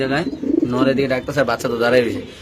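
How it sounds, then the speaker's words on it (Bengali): A pigeon coos close by in low, throaty, rolling calls repeating over a couple of seconds, with no other sounds around it. "দেখেন কবুতরের ডাকটা দেখেন"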